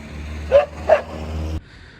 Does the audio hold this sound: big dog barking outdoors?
yes